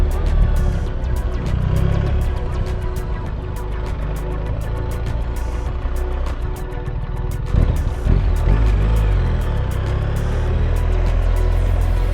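A BMW R1300GS motorcycle being ridden, its engine drone steady and loud with heavy wind rush throughout, a brief dip and surge in the middle as the rider shifts.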